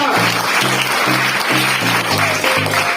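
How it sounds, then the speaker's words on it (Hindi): An audience at a business-building seminar in India claps loudly and continuously, with rhythmic musical tones pulsing beneath it. "तो एक जोरदार ताली अशोक सर के लिए, जोरदार"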